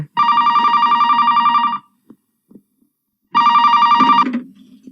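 A telephone bell rings in two loud bursts separated by a pause, with a few faint clicks and rustles in between and after.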